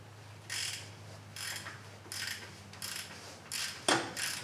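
A ratchet with a 14 mm socket loosens oil pan bolts on a 2001 Dodge Ram 1500 5.9, making about seven short bursts of close ratcheting clicks separated by brief pauses, with no speech.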